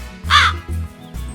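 A cartoon crow caws in a Malayalam fairy-tale animation, one short harsh call followed by low rumbling background sound.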